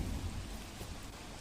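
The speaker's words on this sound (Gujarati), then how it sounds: "પાટણના સાંતલપુર તાલુકામાં ધોધમાર વરસાદ વરસી રહ્યો છે" Heavy torrential rain pours down steadily in a waterlogged low-lying area of Patan, a dense, continuous roar close by with no voices.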